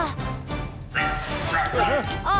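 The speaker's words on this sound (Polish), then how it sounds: "Ojej, znowu ten pożarowy pies!" A cartoon fire dog from a children's firefighter animation barks and yips in quick, bright bursts with rising and falling whines, close and loud over a busy animated soundtrack.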